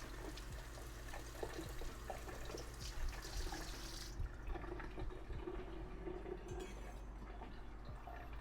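Water runs steadily from a kitchen tap while a knife is rinsed, a continuous close splashing hiss that softens partway through, with no one speaking.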